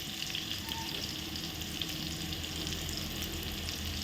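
Prawns and potatoes frying in a pan, a steady, close, loud sizzle that runs without a break while they are stirred, with faint scraping through it and no voices.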